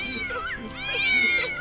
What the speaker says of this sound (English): Where the fuck did that cat come from?